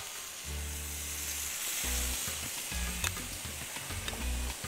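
Chicken on a hot pan sizzles loudly and steadily at close range, with a constant hiss of fat and occasional sharper crackles and pops, and no voices over it.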